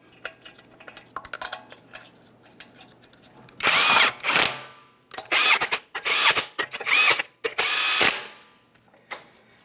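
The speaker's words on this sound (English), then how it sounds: "continue on with all 5 of your 21mm lug nuts. We'll start them on, bottom them out" A power tool spins 21mm lug nuts onto a Nissan Maxima wheel, several loud whirring bursts in a row, each ending in a sharp rattling stop, preceded by quieter metallic clinks.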